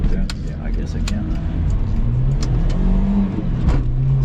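Heard from inside the cabin, a 1995 Mitsubishi Pajero Mini with short gearing revs high while driving, giving a buzzy engine drone that rises and holds in pitch. Voices speak in the car over it.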